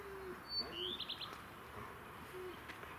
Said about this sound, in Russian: А вот как выглядят тут голуби